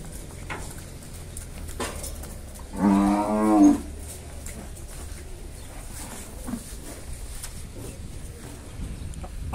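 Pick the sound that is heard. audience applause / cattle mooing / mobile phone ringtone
cattle mooing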